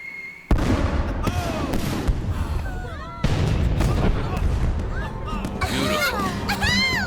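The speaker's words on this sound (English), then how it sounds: "Those are most definitely fireworks." Fireworks burst at a festive celebration in an animated series, with two loud booming blasts followed by crackling and whistling streaks, while voices talk over them.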